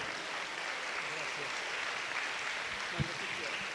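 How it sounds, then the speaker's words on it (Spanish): An audience at an academic lecture claps for a speaker, a steady wash of moderately distant applause with a brief louder knock near the end. "Les pido le otorguemos un muy fuerte aplauso"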